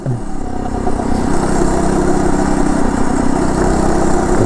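A Phatmoto motorized bike engine runs steady and loud on back roads, a continuous buzzing drone that builds slightly and holds without a break.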